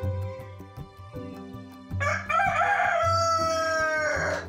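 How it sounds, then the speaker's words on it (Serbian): A pet rooster crows on command inside a living room. Low clucking and shuffling come first, then a loud, close, drawn-out crow rings out from the midpoint to the end. "koji u dnevnoj sobi kukuriče po komandi"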